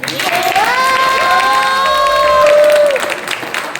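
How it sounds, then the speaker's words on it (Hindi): Audience clapping and cheering for a husband and wife at a Nepali literary and music gathering, loud and sustained, with voices calling out over it. "इज्जत यिनीहरू दुईटा हस्बेन्ड वाइफको लागि एक ताली बजाउँछ"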